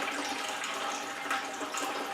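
Water runs steadily into a 5-gallon plastic bucket, a continuous broadband splashing rush with no pauses, close and fairly loud, while it is being filled with about four gallons during a power outage.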